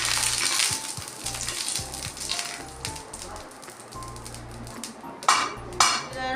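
Two tablespoons of oil hissing in a pan while chicken seekh kebabs are prepared, a steady sizzle broken by metal clanks of the pan and utensils.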